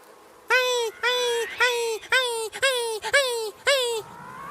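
A voice imitates swarming bees in a spoken children's story: seven loud, close, rhythmic buzzing bursts, each one rising and falling, with short gaps between them.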